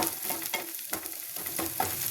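Soft sizzling with repeated scraping strokes as vegetables with green chili are stirred in a hot pan, fairly quiet and steady.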